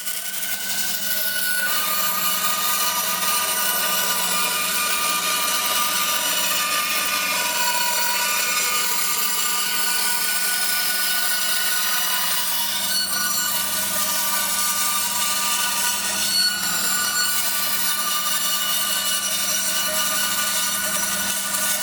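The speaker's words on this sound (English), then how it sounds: "we're going to cut this top on a bandsaw" A bandsaw cuts through a guitar body top in a luthier's workshop, a continuous loud whining drone with shifting tone as the blade works along the outline, steady throughout with no talk.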